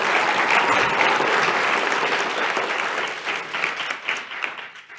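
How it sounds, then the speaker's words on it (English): Sustained audience applause fills a civic oratory competition hall in Chicago, dense and steady for several seconds before gradually thinning out toward the end. "give them a round of applause"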